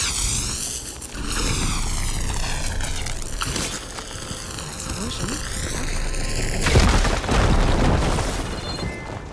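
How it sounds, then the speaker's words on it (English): A firegleam deposit blows up in Horizon Forbidden West inside a blocked tunnel, a deep roaring boom with rising whooshing tones, a second heavy blast near the end, and game voices talking over it. "Should be able to blow up that fire gleam."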